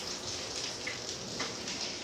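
Heavy rain falls steadily during a thunderstorm at a house, a dense even hiss of drops on surfaces with no voices present.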